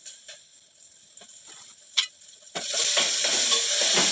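Peanuts in a pan give a few sparse taps and scrapes, then a steady close sizzle of frying takes over for the last stretch, with no talk.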